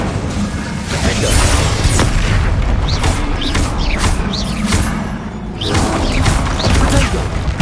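Confringo fire-spell blasts in Hogwarts Legacy burst in a loud run of booming explosions, one after another over a steady rumble, with no voices.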